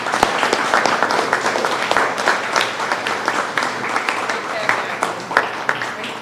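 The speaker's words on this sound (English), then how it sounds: "I want to give them a big round of applause" Audience applause at a small business recovery funding announcement, steady clapping filling the room for several seconds, with some speech-like sounds mixed in.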